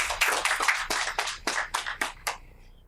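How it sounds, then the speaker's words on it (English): Scattered hand claps from a small audience at a school board meeting, about a dozen sharp distinct claps in an uneven rhythm that thin out and stop within three seconds. "Please give him a round of applause."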